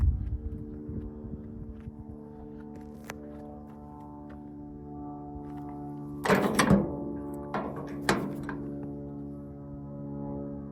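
The tailgate of a 1961 Chevrolet Apache C10 pickup shuts with a heavy metallic slam, followed by a second, lighter clunk a moment later. Steady background hum runs before and after the hits.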